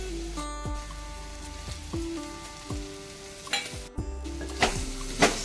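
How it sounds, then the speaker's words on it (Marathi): Leafy bharang greens fried with fresh grated coconut in a pan, with steady sizzling and repeated scraping stirs at a close, moderate level and a few clinks of the utensil, no voices. "आता आपण यामध्ये ना ओलं खोबरं टाकणार आहोत"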